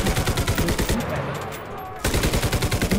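Rapid gunfire in the World War II shooter game Enlisted, Battle of Berlin setting, loud repeated bursts with a brief quieter lull before the shooting resumes.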